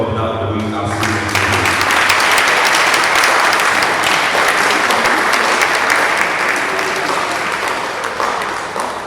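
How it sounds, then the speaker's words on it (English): A large audience at a 2024 feast day gathering gives a loud, sustained round of applause for a guest, full and continuous for several seconds, with a voice audible briefly at the start. "please, with another round of applause, please help me welcome Most Reverend John Kobna Louis"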